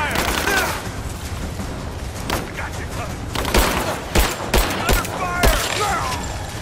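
Rapid gunfire from the video game Rise of the Tomb Raider crackles in repeated bursts and sharp shots over a dense, noisy battle backdrop, loud and close throughout.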